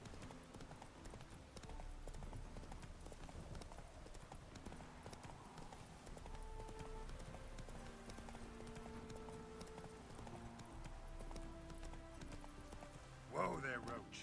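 Roach the horse gallops in The Witcher 3, a steady run of hoof clip-clops with game music playing alongside and a brief snort or whinny near the end.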